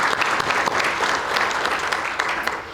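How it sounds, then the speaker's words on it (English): An audience at a community chamber of commerce event claps loudly and continuously, a dense, even patter of many hands with no voices on top. "let's give yourselves a round of applause"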